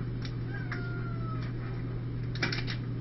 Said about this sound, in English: I don't see a little white cat on the counter.